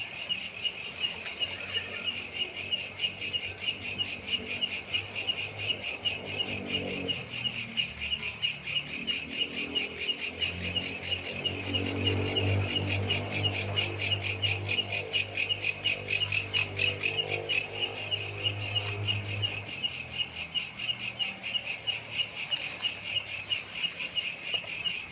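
Walang kecek insects chirp in a dense, continuous high trilling chorus throughout a night-time forest garden campsite, with faint low rustling underneath and no talk.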